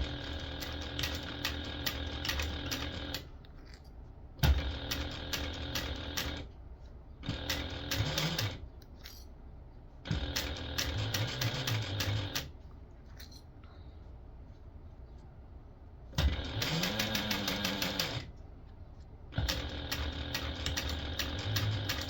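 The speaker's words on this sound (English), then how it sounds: "go ahead and sew that in place using a 1/4 inch seam allowance or less" A sewing machine runs a basting stitch along a tote bag with a quarter-inch seam, in several bursts of steady whirring a few seconds long separated by pauses, close and clear.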